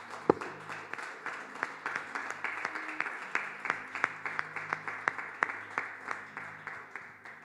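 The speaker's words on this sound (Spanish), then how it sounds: "Le damos un fuerte aplauso al Señor" Congregation in a church gives sustained applause, steady rhythmic clapping from many hands at moderate volume with a few sharper claps standing out, continuing evenly throughout without talk.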